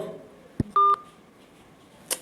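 A phone call fails to connect: a single dial tone beep, then a short, steady call tone and a faint electronic blip before the line drops busy, fairly quiet and with no one talking.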